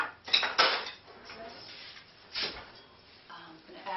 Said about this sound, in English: Let me get a little spoon here.